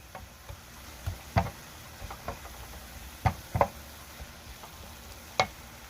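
Vegetable mixture for a quiche cooking in a pan on the stove, giving a soft steady sizzle with scattered sharp knocks and scrapes of a utensil stirring against the pan.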